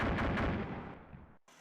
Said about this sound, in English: Gunner, use cannon, high explosive.